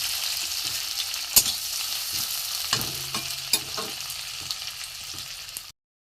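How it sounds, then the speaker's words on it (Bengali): Chopped onion, grated garlic and tomato fry in a pan while a spoon stirs through them, giving a continuous sizzle broken by scattered scraping clicks and knocks, until the sound cuts off near the end. "পেঁয়াজ কুচি দিয়ে দিয়েছি, একটু রসুন গ্রেট করা আছে, রসুন দেবো, টমেটো দিয়ে দেবো, একটু ভালো করে ভেজে নেব।"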